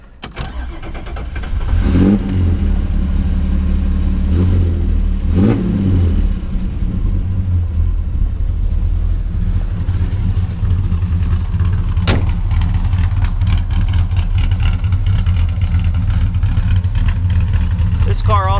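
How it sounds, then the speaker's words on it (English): A 1962 Plymouth Valiant V200 station wagon's slant-six engine cranks, catches and fires up, is blipped through a couple of loud revs, and then settles into a steady, close, rumbling idle. "let's start it up and take a listen to the engine."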